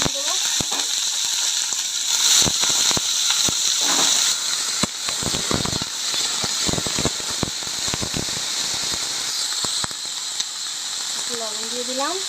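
Chopped vegetables drop into hot oil with fried nigella seeds in a pan, giving a loud, steady sizzling hiss throughout, broken by scattered clicks and clatter from the cookware.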